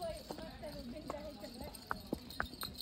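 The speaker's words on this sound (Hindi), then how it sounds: "तो अब ये घोड़ा फिर चल दिया अपनी सवारी की ओर।" Horse hooves clip-clop along a trail during a ride in Kufri near Shimla, a close, irregular string of sharp clops. People talk over them throughout.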